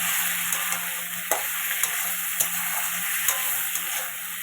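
Cashews and fish heads drop into hot oil in a frying pan while mung dal with fish heads is cooked; a steady, loud sizzle runs throughout, dotted with small regular clicks, no talking.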